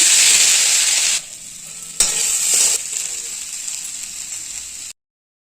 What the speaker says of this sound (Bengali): কেন এটা তোমার আদা পেঁয়াজ ছিল মশলাটা, জিরে আদা, সেই জন্য একটু কষিয়ে নিচ্ছি।